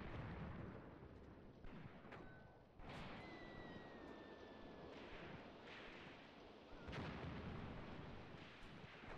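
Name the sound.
artillery fire in a video game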